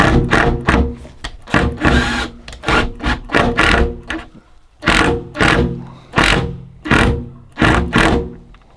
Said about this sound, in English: Drilling through the back.